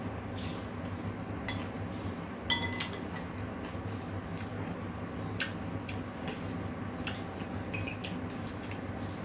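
Dishes from a large pile are washed, with scattered clinks of plates and cutlery ringing out over a steady low background hum, some taps sharp and close, others faint.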